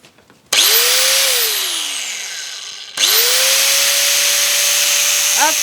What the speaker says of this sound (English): Next we're going to use the AC ports, and for that we turn them on and plug in the grinder.